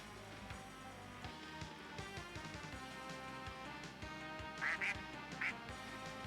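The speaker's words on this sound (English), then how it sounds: "Quack, quack." Duck quacks in a video game ring out over a busy, steady game soundtrack, three short quacks in a row near the end, fairly loud, with no speech.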